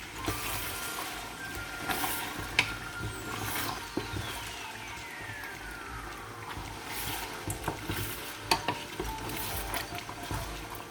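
Gizzard tomato sauce is stirred in a pot, with a low bubbling sizzle broken by scattered clinks and scrapes of the spoon against the metal, moderately quiet and close.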